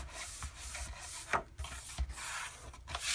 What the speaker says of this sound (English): put your hand in there and rub it all down